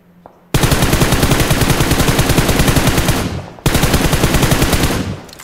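Rapid automatic gunfire from a prone position in a video game, two long sustained bursts of close, loud shots with a short gap between them.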